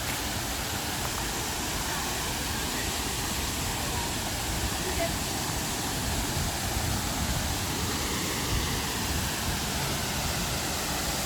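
Waterfall at Pakse, Laos, roaring as a steady, dense broadband wash of falling water that stays at an even level throughout.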